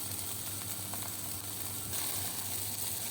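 Sliced okra sizzles steadily in a hot pan while being sautéed with salt for a dry fry, a continuous close hiss with soft stirring movements and no talk.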